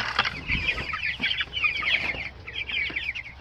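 A flock of chickens clucking and chattering continuously up close, with busy overlapping calls and faint scuffling underneath.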